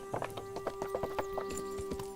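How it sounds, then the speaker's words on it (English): Horse hooves clip-clopping on the training grounds in the video game Kingdom Come: Deliverance, a steady, moderately paced run of faint hoofbeats over a constant tonal hum, with no one speaking. "Why is there a horse here from the beginning of the game?"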